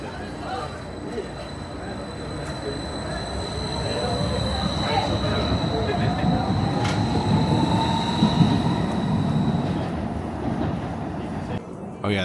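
Blue line metro light rail train in a St. Louis station, a loud steady rumble of wheels and motors with a rising tonal whine and faint high tones, continuous throughout.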